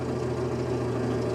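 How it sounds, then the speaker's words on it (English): A warm Datsun Roadster engine idles steadily after being backed out of the shop, a smooth, continuous low rumble with no voices over it. "It's idling"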